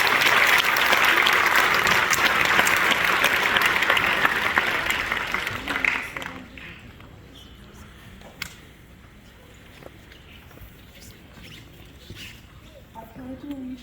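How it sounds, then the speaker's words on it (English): An audience at an award ceremony applauds loudly and steadily for about six seconds, then the clapping dies away, leaving a quiet room with faint scattered noises. "Let's give them a round of applause, please."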